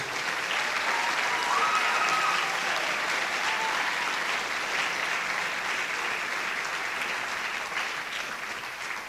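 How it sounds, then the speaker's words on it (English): A school band concert audience gives sustained applause, a dense, even wash of clapping that holds steady for several seconds and tapers slightly toward the end. "let's just please, one big round of applause to the talent on this stage"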